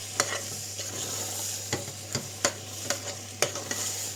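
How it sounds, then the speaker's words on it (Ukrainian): A spoon scrapes and taps against a pot in irregular strokes, stirring flour into French onion soup, while something sizzles steadily in the background. "додати одну чи дві столові ложки звичайного борошна і все ретельно перемішати"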